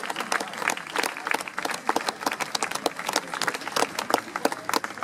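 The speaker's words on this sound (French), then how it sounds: "je vous laisse les applaudir encore une fois très très fort" Spectators at a cocarde show applaud together, a steady, dense wash of many hands clapping that carries on without a break at fairly close range.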